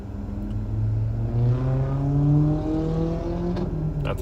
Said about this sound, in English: That's a loud car.